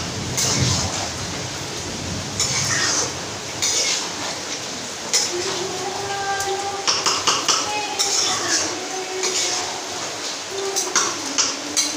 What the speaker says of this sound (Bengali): মাংসে আলু দিয়ে দিয়েছি, আলু দিয়ে এখন কষাবো